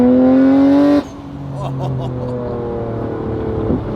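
A loud Nissan Skyline R33 GT-R engine revs high, cuts off abruptly, then builds again with a rising droning pitch, close and powerful.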